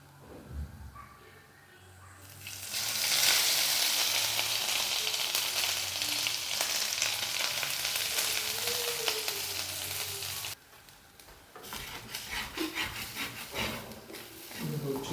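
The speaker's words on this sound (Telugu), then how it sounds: "సో దీన్ని కూడా మనం ఇప్పుడు నెయ్యిలోనే ఫ్రై చేసుకుందాం." Ground fresh coconut fries in ghee with a steady, broad sizzle and scraping stirs, rising loud after a quieter start, dipping briefly near the end before resuming; a faint voice is present underneath.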